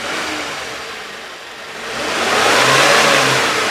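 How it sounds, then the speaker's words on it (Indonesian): A 2011 Suzuki Carry Futura 1.5 pickup engine is revved to 3000 RPM: a loud, close engine drone holds steady, dips briefly, then climbs and sustains at a higher, stronger rev with no talking. "Sekarang coba kita geber di RPM 3000"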